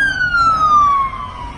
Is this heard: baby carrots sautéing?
no